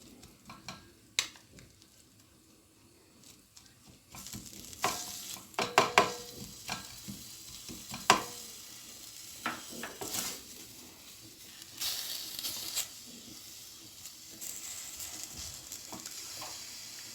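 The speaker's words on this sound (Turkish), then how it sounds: "Soğanlarımızı güzelce soteliyoruz." Steady sizzling of onions sautéing in oil, with scattered clinks and scrapes of stirring rising over the hiss, close by and without speech.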